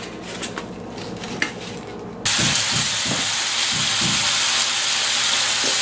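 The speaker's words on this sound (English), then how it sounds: "Now I'm going to start this pan of them cooking." Slices of bacon begin frying in a pan of bacon grease after clinking cookware, breaking into a loud, steady hiss and crackle with scattered pops that carries on alone to the end.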